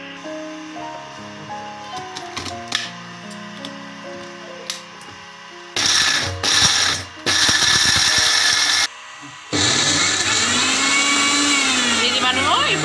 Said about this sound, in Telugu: ఇక ఇది మనం మిక్సీ ఆన్ చేసుకుందామండి